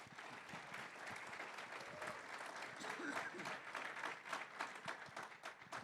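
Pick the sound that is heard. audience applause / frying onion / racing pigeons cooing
audience applause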